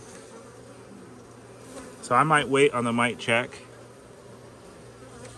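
Honey bees buzzing during a hive inspection: a steady, droning hum runs throughout, with a brief stretch of talk over it in the middle.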